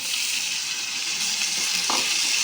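Chicken liver fries in oil with a loud, continuous sizzle while it is stirred in the pan. A brief scrape of the spoon sounds near the end. It is close-up and there is no talk.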